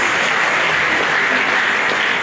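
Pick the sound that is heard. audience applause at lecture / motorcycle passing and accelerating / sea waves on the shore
audience applause at lecture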